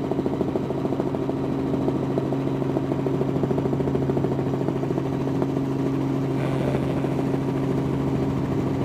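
A helicopter engine roars steadily from inside the cabin, a loud, unbroken drone with a constant low hum and rotor throb, no voices heard.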